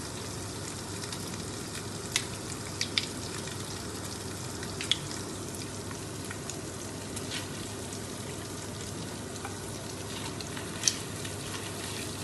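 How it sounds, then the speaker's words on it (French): Tomato paste frying in a pan alongside stuffed squid gives a steady close sizzle throughout, with a few faint clinks of a utensil over the hiss. "Nous allons faire revenir en même temps le concentré de tomate."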